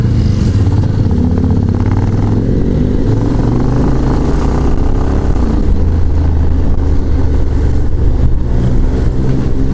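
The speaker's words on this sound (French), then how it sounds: "je suis sûr il a une M-Slaz avec un pot. Ça fait un bruit d'enfer mais ça avance pas." A Yamaha M-Slaz motorcycle fitted with a loud aftermarket exhaust drones steadily among traffic, a constant rumbling engine roar rising and falling slightly throughout, close and loud with no talk.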